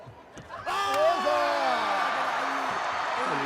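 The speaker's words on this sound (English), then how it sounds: "you can hear the delight from the crowd in the Cairo International Arena here" A home crowd in Cairo International Arena erupts in cheers as an Egyptian karateka scores the first point in a Karate1 final: a sudden swell of roaring and whooping that holds steady, with a commentator's voice over it.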